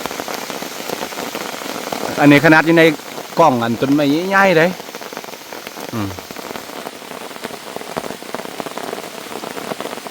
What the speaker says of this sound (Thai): โอ้ฝน